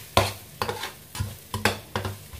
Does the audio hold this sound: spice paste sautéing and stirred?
yes